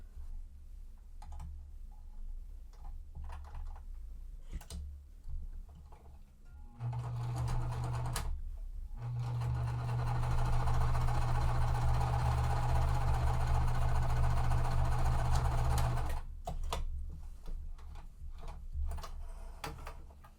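A home sewing machine stitching quilt pieces at a 2.5 stitch length, a steady mechanical whir that runs loud and continuous for several seconds between quieter stops and handling noises.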